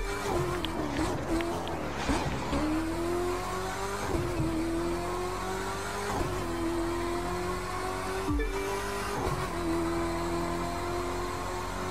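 A touring car in the video game The Crew 2 drones loudly and continuously, its engine pitch climbing and dropping back with each gear change about every two seconds, with a brief squeal-like dip near the end.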